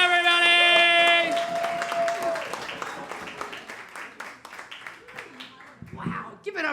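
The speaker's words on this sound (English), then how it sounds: "Let's start clapping." Audience at a comedy club clapping and cheering, a dense burst of applause that thins into scattered claps while a host's amplified voice talks over it.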